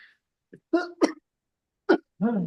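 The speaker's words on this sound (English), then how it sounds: "I just wanted to cough in the microphone here." A few short, sharp coughs sound close to the microphone during a subcommittee meeting, separated by brief silences and followed by a low vocal sound.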